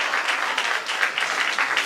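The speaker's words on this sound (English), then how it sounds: "All right, now I want you to clap it up for this next group that's getting ready to come up." Applause from an audience at a live Black Experience showcase, a steady dense wash of clapping that runs the whole time at even loudness, with no voices over it.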